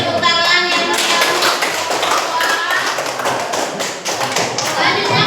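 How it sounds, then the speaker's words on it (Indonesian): An audience claps at a classroom or school group presentation, a dense rattle of many hands continuing steadily throughout, mixed with children's voices and chatter. "Beri tepuk tangan yang meriah"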